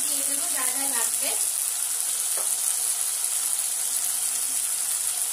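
Oil sizzles steadily in a pan as ground spices go in for ghugni, a constant bright hiss with faint stirring and someone speaking over it.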